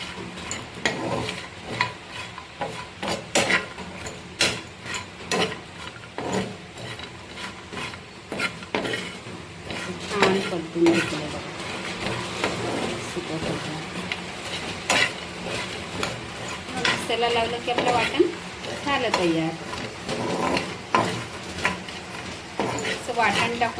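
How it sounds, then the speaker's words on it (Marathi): Dry coconut is stir-roasted in a pan over very low heat, with steady scraping and stirring throughout and a voice talking over it. "आता हे सुकं खोबरं एकदम स्लो गॅसवर हे करायचं"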